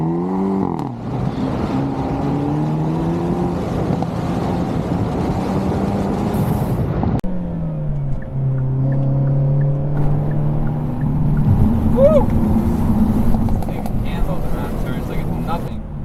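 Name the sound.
Hyundai Elantra N car driving fast through turns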